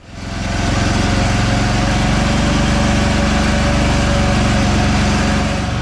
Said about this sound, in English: just blew out the edges so we can just take the WINDSTORM and send everything into the woods